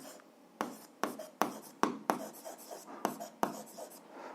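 Pen strokes scratch across paper while someone works through a seventh-grade algebra exercise, a quick series of about ten crisp, close strokes in uneven rhythm, with no talking.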